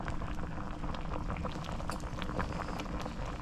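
Catfish soup bubbling in a pot, steady close boiling with small pops and crackles throughout.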